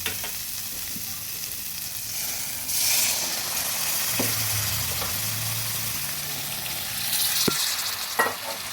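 Water poured into a hot pan of spiced potatoes for prawn curry, a steady loud hiss and bubbling sizzle with a louder surge as the water hits, plus a few clinks of a utensil.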